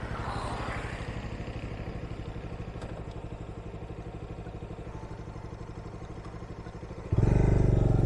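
Motorcycle engine running steadily as it rides toward the next stop on a forest route, a continuous rhythmic chug close by that swells suddenly louder near the end.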